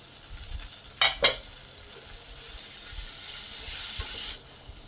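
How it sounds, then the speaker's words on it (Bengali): A spatula scrapes twice through potato and capsicum frying for aloo chilli, then a soft steady sizzle carries on quietly in the pan. "ক্যাপসিকামগুলো ভাজা ভাজা হয়ে গেছে হাফ সেদ্ধ হয়ে গেছে আর দু মিনিট ভালো করে নেড়ে নিয়ে নামিয়ে নেব"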